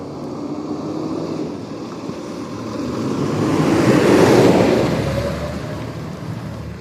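A truck passes a cyclist riding through downtown Toronto, a broad rumbling whoosh that swells to a peak and fades away over steady wind noise.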